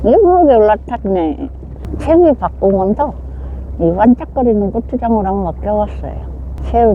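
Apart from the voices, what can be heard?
No everyday noise stands out behind the speech.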